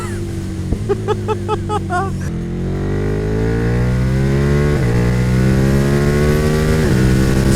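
Yamaha XSR motorcycle engine revved at full throttle through a wheelie, a loud close rising roar climbing in pitch with gear changes, preceded by brief talk.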